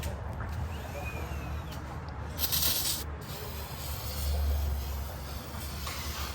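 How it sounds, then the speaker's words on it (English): Brake cleaner is sprayed onto the valve cover of a 2014 Nissan Altima 2.5 engine in a short, close hiss of just under a second, set against a steady low hum. "spray some brake cleaner so we can start cleaning this up with a razor blade"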